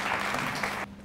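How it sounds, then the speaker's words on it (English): A short burst of audience applause closes a conference session on engaging generations in the workplace, many hands clapping together at moderate volume before cutting off abruptly. "Let's give a big round of applause."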